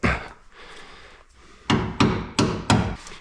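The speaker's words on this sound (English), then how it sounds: "here's where the hammer comes in." Four sharp metallic hammer blows in a steady rhythm strike while prying a part on a BMW E36 325i, loud and close, preceded by quieter scraping and handling.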